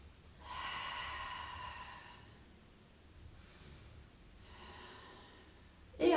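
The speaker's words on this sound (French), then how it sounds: "Et respiration." Breath is drawn in and let out slowly during a Pilates exercise, with a long airy exhale followed by a softer second breath, close and quiet, ending in a sudden louder noise.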